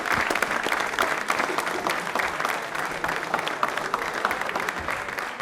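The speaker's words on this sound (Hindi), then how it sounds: "तालियां बजिए।" A studio audience at a televised quiz show claps for a correct answer, a continuous, fairly loud burst of applause with no talking over it.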